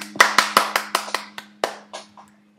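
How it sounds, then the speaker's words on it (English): A short round of hand clapping: about a dozen sharp claps, quick at first, then slowing and fading, with a faint steady hum underneath. "Let's just give a nice friendly clap to Owen."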